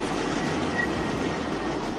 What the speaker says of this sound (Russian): Чудесный пражский трамвай.